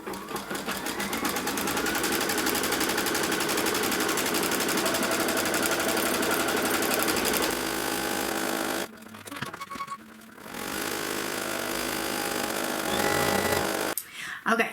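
A Kimberbell embroidery machine stitches a template for the bottom section of a Wallflower quilt block, a fast steady mechanical whir, loud and continuous, broken by short pauses near the end.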